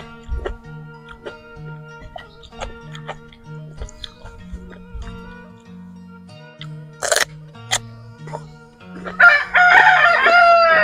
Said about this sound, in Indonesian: Banyak ayam di sini.